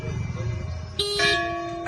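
A car horn honks loudly, a steady blaring tone that starts partway through and holds, with a brief second blast at the end.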